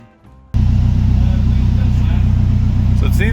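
A swapped-in Nissan SR20DET turbo engine starts up and runs steadily at a loud, close idle, with a deep rumble that keeps a pulsing rhythm throughout.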